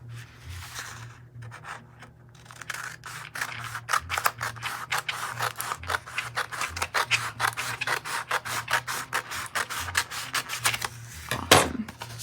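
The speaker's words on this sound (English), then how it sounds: "Grab a pair of scissors." Scissors snip through a TeckWrap vinyl decal sheet in a quick, steady series of crisp close cuts, ending with a louder rustle of the sheet.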